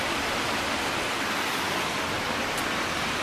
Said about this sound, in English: The waterfall is professionally landscaped.